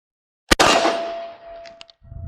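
Sharp metallic clack of a round being loaded into an Alkan Arms 818A1e shotgun, followed by a ringing clang that fades, a couple of small clicks, then low handling noise, close and loud.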